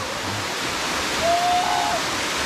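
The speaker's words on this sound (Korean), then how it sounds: "여기가 그 저기 낙영폭포 상단인가 봅니다" Upper Nagyeong waterfall in the Sogeumgang valley, Odaesan, gives a continuous loud rush of falling water, steady throughout with a faint brief tonal whistle partway through.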